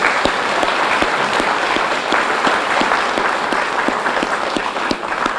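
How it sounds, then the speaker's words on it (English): Conference audience applauding in a sustained, dense round of clapping that holds steady and loud throughout, with no voices over it. "I just ask everybody to join me in a round of applause for Jen's work."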